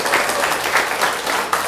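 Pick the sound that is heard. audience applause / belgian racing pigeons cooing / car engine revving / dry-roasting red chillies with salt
audience applause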